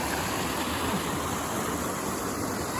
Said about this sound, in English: Teeny tiny waterfall here.